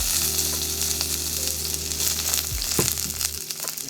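Spring onion stems are stir-fried in a hot pan for noodles, giving a loud, dense, crackling sizzle with sharp spatters as they are tossed, over a steady low hum and with no talking.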